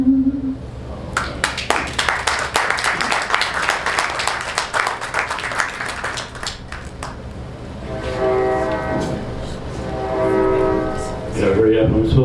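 A passing train sounds its horn, first with a clattering burst of rail noise, then long sustained horn blasts in the latter half, close and fairly loud with a murmur of people in the background.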